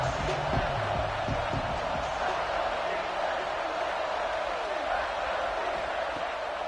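Stadium crowd roaring steadily in College Football 26 during a big third-down moment, a dense continuous wash of cheering throughout, with a commentator talking over it.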